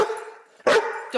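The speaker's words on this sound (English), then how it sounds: "Don't bark at me." A dog at home gives short barks and yips, a drawn-out vocal sound followed by a sharp burst and a quick final yelp, all close by.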